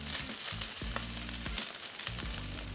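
Rice frying on a hot griddle for chicken fried rice gives a steady loud sizzle with scattered sharp pops, while a spatula scrapes and stirs in rhythmic low knocks.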